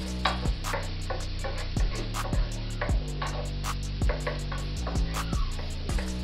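Frozen peas and carrots cook in a pan for shrimp fried rice, giving a steady sizzle broken by sharp, regular clicks and taps of a utensil against the pan, close and moderately loud with no talking.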